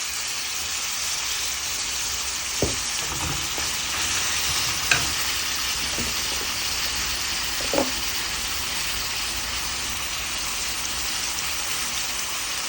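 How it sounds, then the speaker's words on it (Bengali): Flat beans and potatoes fry in hot oil with salt, making a continuous sizzle, with a few sharp clicks from stirring scattered through. "তেলের মধ্যে সিম আলুটা দিয়ে দিলাম।"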